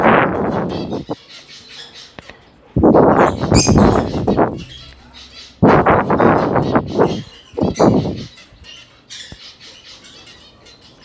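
Finch chicks in an aviary nest box give bursts of shrill, squeaky begging chirps, loud and close, separated by short quiet gaps.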